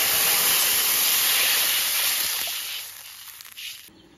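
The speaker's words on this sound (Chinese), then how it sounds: "炒出酱香味，加水进来" Water poured into a hot wok of fried chili bean paste and soybean paste sets off a loud, close steaming hiss and sizzle that holds steady, then dies down over the last second.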